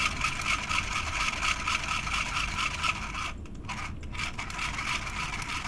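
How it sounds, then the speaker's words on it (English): A small model steam engine with piston and flywheel runs steadily, a dense continuous mechanical whirring and chuffing close up, with two brief dips in the middle. "you can now run the engine by pushing and pulling here"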